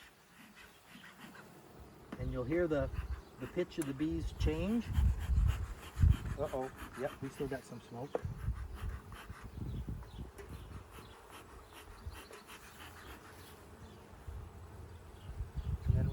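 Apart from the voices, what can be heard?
honey bees changing pitch after being smoked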